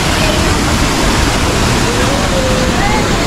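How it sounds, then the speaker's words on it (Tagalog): Steady broadband rush of flowing water at a resort bathing spot at a farm resort in Naga City, loud and continuous throughout with a faint voice in the background. "Makikita nyo ang daloy ng tubig."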